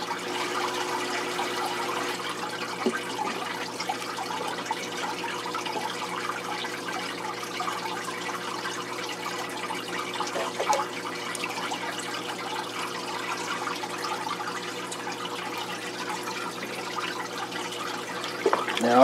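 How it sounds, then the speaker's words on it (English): Water running steadily into a home saltwater aquarium tank during a water change, a constant moderate rushing and trickling wash with no talk. "we'll get the tank filled back up"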